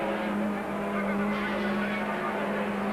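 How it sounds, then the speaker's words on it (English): Off-road super trucks, once raced in Mickey Thompson stadium racing, roar together in a loud, steady engine drone with a strong held tone. Tyres scrub now and then, and there is no speech. "These super trucks used to be raced in the Mickey Thompson series in the United States, full-blown stadium racing"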